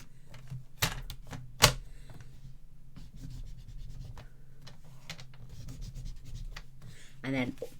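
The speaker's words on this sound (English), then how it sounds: "we're going to score to this cut line" Cardstock is scored along a cut line on a score board, a series of short scraping strokes and taps close by, with a couple of sharper knocks and a rasp near the end.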